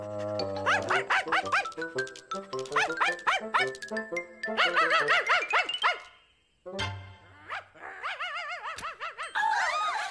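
A dog in an animated children's storybook tale yips and barks in quick repeated bursts, with whimpering, squealing tones between them, loud and close over a musical backing.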